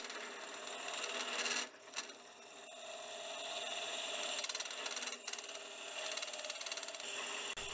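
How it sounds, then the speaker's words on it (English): Continuous rasping scrape of a tool hollowing out the inside of an old baseball bat on a spinning wood lathe, steady and close, with a hum underneath and brief dips in the cutting. "I can actually dig out the inside a lot more easily now"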